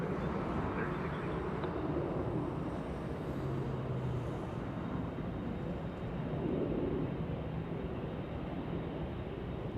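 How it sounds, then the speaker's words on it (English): A small SkyWest airliner on runway 24 Left at Los Angeles International Airport gives a steady, distant jet roar that stays level and unbroken, with no other sounds standing out. "Little SkyWest getting a move on runway 24 left."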